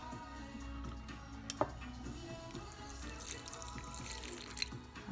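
Water mixed with yeast, sugar and oil is poured into sticky rustic pizza dough in a bowl, giving a soft, continuous trickling and splashing with faint drips, quiet and close.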